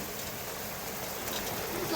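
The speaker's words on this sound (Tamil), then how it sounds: "பாருங்கள் மழை அடிக்க ஆரம்பிச்சிருச்சு" Rain beginning to fall outdoors, a steady broadband hiss of drops on surfaces that swells slightly toward the end, moderately quiet and continuous with no voices.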